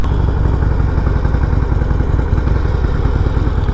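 A 2020 Harley-Davidson Roadster 1200cc motorcycle engine runs on its stock exhaust, a loud, close, steady low rumble with a throbbing idle pulse and no talk.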